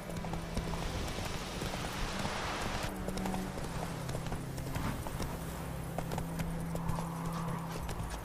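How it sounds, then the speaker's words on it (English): Horse hooves pound in a steady galloping rhythm in the video game The Witcher 3: Wild Hunt, loud and close, with a brief whinny partway through and a low game-music drone underneath. "Faster horse."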